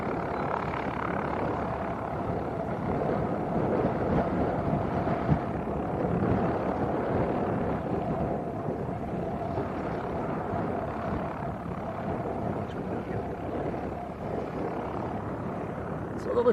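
A light aircraft taxis at Leeds East Airport, its steady propeller-engine drone holding close and fairly loud throughout, with a faint voice talking over it.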